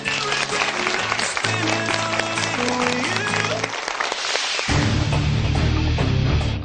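A studio audience at a high school quiz show applauds the eliminated Jeju Jungang Girls' High School team, steady clapping mixed under loud music with sustained tones throughout.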